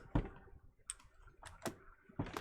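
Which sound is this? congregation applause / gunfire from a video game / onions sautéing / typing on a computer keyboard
typing on a computer keyboard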